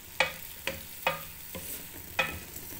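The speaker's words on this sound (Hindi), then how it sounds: "इसको अच्छी तरह एक दफ़ा हम ऑयल में मिक्स कर देंगे" Pieces of chicken are stirred in hot oil in a pan for a desi murgh salan, with four or five sharp scraping strokes over a steady close sizzle and no talking.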